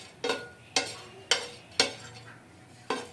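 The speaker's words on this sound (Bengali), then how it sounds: "জয়িত্রী 3-4টা আর এলাচ, এই দুটো কিন্তু একদম ভালো করে ভেজে নিতে হবে, শুকনা খোলায় যে ভাজাটা বলে।" Mace and cardamom dry-roasting in a pan, stirred in four crisp scraping strokes about half a second apart, close and fairly loud, then a fifth stroke after a pause, with no talking.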